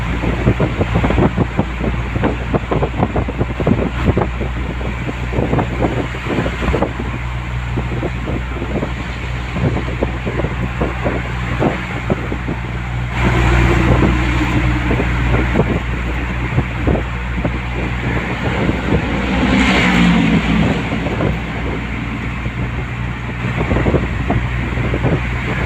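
A large delivery truck drives along an elevated skyway, its steady low engine and road rumble continuous throughout with wind buffeting the microphone and a brief louder surge partway through.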